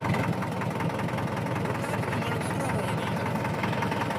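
A tractor's diesel engine runs at a steady idle close by, with a continuous low rumble and rhythmic knocking that holds at the same level the whole time and carries no speech.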